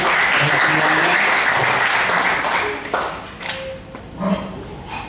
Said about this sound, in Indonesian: Tepuk tangan dong buat Bunda.